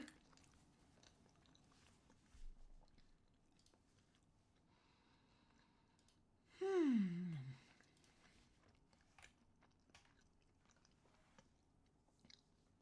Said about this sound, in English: I'm chewing.